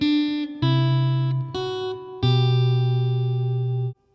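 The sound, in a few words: guitar playing Tudor riff with open E bass note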